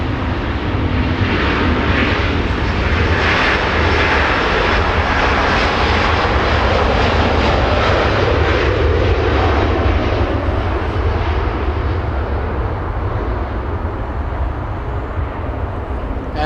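Lufthansa flight 453 departs Los Angeles International Airport for Munich with a loud, sustained jet engine roar that stays strong and close throughout.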